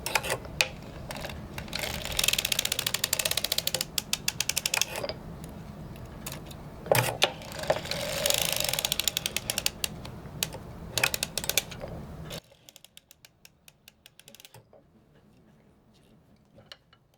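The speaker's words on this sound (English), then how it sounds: "So I have just finished cranking and wrapping the 2 target heel stitches." A circular sock machine cranks through a short-row heel, giving a close, busy clatter of needles and ticking cam movement in bursts that stops abruptly, leaving near silence at the end.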